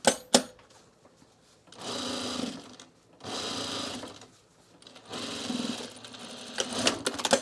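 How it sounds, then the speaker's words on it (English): A sewing machine stitches a trouser pocket seam in three steady runs of a few seconds each, separated by quiet pauses, with a couple of sharp clicks at the start. "And then sew the seam."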